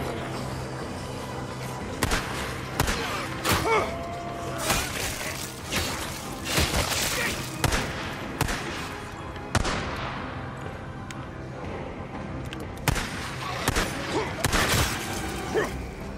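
Gunfire inside a mine in the Days Gone video game: scattered loud shots and heavy impacts spread through a tense, rumbling stretch, with occasional voices.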